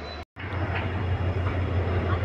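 A Guwahati-bound train pulls into the large Lanka railway station, a steady low rumble and broad roar close by after a brief cut at the start, with a faint voice mixed in.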